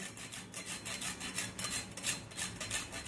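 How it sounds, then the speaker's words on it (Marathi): Whole nutmeg grated by hand for a sweet rice-semolina khandvi, a steady run of quick rasping strokes against a grater, close and fairly loud with no talking. "जायफळ अगदी वेळेवर किसून घ्यायचं आहे आपल्याला"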